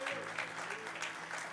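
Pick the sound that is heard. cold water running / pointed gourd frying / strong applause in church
strong applause in church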